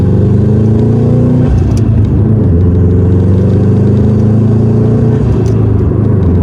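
Subaru STI with a stage 2 clutch revving, a loud close engine drone that rises, dips sharply and climbs again in steady harmonic sweeps.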